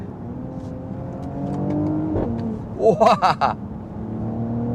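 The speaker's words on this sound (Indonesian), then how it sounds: "suara mobil ini juga cukup merdu ketika kita berakselerasi" A 2020 Mercedes-AMG GLE 53 Coupe accelerates, its engine rising from a low cabin rumble into a few loud, throaty pulses heard from inside the car, with a brief exclamation from a passenger.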